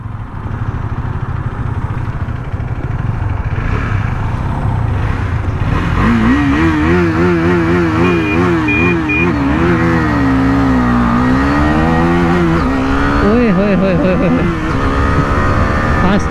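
A Yamaha FZ250 and a Husqvarna Vitpilen 250 motorcycle roar close by in a drag race, engines revving hard through rising and falling gear changes, with voices talking over the sound.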